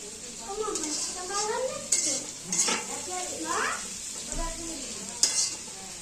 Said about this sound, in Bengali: খোসা শুদ্ধ আলু ভাজা ভালো টেস্ট হয়